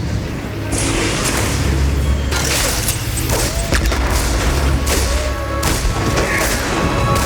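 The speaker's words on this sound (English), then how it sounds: "This Reaper is gonna toss a grenade, then bounce out of here." StarCraft match audio from a tournament, with Reaper units tossing grenades: a dense, continuous wash of battle noise punctuated by several sharp booms and thuds, loud throughout.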